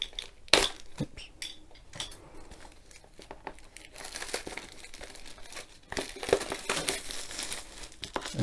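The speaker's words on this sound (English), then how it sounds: "And it ends up peeling down anyway, but usually if you try and peel it down, it starts to tighten up and you struggle to get the cover off." Plastic film being peeled and sliced off a diamond painting kit box makes close crinkling, crackling and tearing noises in irregular bursts, louder toward the end.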